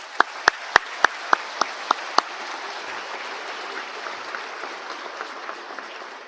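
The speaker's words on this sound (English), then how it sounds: "Let's give them a round of applause." At a college convocation ceremony, a handful of sharp, evenly spaced claps ring out first, then give way to a softer, sustained patter of crowd applause filling the hall.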